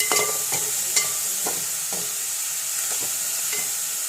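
A spoon stirs and scrapes cabbage with grated coconut in a pan, a rhythmic series of about nine close scraping strokes over a soft sizzle, with no voices.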